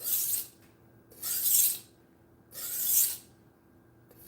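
Knife blade drawn across a whetstone in three slow, even rasping strokes separated by short pauses, close and clear with no talking.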